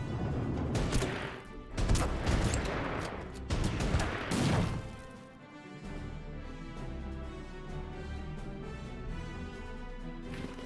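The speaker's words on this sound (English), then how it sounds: "Ah, hello, artillery." Artillery barrage in the Order of Battle strategy game, several loud booming impacts clustered in the first few seconds, then fading into a low rumbling backdrop.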